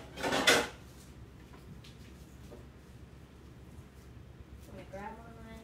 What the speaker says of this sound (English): Alright, so I'm going to grab a plate here.